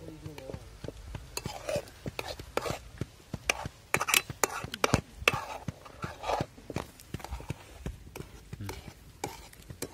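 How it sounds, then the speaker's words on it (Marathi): A spoon stirs pitla batter made for a village-style meal, giving a steady run of sharp clicks and scrapes against the bowl, close and fairly quiet, with soft whispery background noise between the strokes. "चमच्याने चांगलं हलवून घेऊ."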